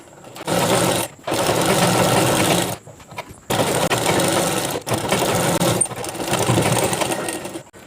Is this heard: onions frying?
no